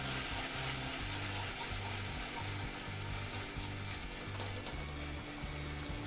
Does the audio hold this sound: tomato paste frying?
yes